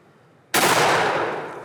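Single shotgun blast during a spring turkey hunt outdoors, one sudden loud, close report after brief quiet, decaying over about a second.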